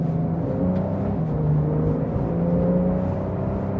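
A loud sports car engine, stock exhaust, drones steadily from inside the cabin with a rising, gently wavering tone and a constant low rumble; the model is a BMW M4 Competition or Porsche 911.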